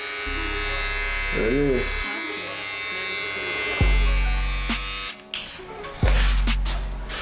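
A Bevel Pro all-in-one electric hair clipper buzzing close up in steady bursts, switching on and off several times, with someone speaking briefly over it.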